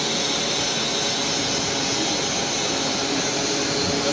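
A Western Maryland Scenic Railroad locomotive with a steady, loud engine roar and broadband rumble running continuously up close, no talk.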